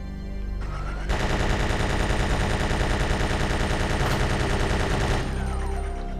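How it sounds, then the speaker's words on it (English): Gatling gun firing in Resident Evil 3, a sustained, very rapid continuous roar of shots lasting about four seconds, starting and stopping abruptly over steady background game music. "And then our old friend the Gatling gun."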